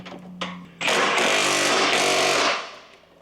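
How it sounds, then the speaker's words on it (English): A Milwaukee impact gun torquing the shock bolts on a Range Rover: a couple of light clicks, then one loud, sustained rattling hammer burst close by that cuts off after about two seconds. "we're torquing up the shock bolts to the correct torque with a Milwaukee gun"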